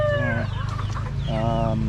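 Fighting roosters on a farm crow loudly and close by, two drawn-out calls separated by brief clucking, over a low steady background hum.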